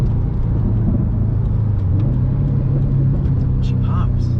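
A Stage 1 2018 Subaru STI being driven, its engine and intake making a steady loud rumble and whir with a slight rise in pitch.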